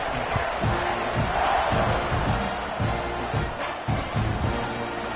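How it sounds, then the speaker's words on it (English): A football stadium crowd at Texas A&M vs Arkansas State buzzes after a score, a loud, continuous roar of many voices with a low rhythmic thumping beneath it. "this crowd is buzzing after that last score"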